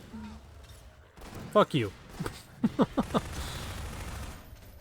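Gunfire from the Half-Life video game, a cluster of sharp loud shots: two close bangs, then three more in quick succession, with a person talking before and during the shooting.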